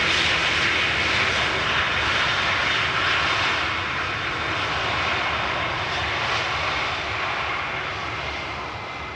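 An Electra Airways airliner arriving at Amsterdam Schiphol Airport passes with a loud, steady engine roar that slowly fades toward the end.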